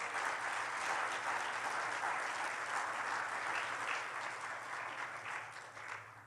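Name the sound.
church congregation applauding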